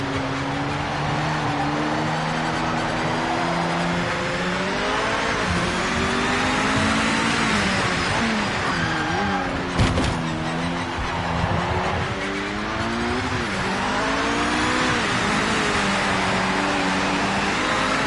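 A race car engine in the video game Project Motor Racing drones continuously, its pitch rising and falling as it revs through gears, with a steady rush of wind noise underneath.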